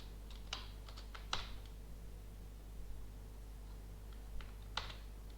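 Computer keyboard typing in a quiet room: a few sparse, soft key clicks in short clusters over a low steady hum, close by and fairly faint.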